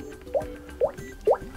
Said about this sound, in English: you can go for example for the water drop